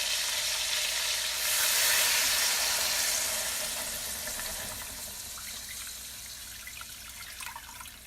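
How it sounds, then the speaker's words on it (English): Water runs steadily into a pot of freshly fried pork for a Hmong pork stew, a broad hiss and sizzle that swells early then eases and settles, with no voices. "So once the pork is fried, I just want to put some water in it."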